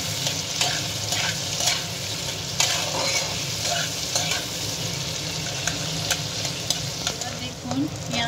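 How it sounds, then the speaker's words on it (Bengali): Onion frying in a pan for chilli chicken, a steady dense sizzle throughout with frequent scraping clicks of a spatula stirring, close and continuous with no talk. "পেঁয়াজটা হালকা ভেজে নিতে হবে।"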